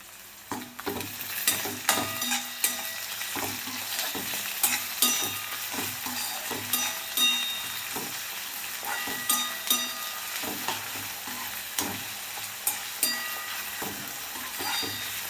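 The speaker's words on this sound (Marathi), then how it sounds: "टोमॅटो पण मऊ होईपर्यंत आपल्याला भाजायचं आहे बघा." Chopped tomato and onion frying until soft for poha, a continuous close sizzle broken by regular scraping and clinking strokes of a spatula stirring in the pan, with no one talking.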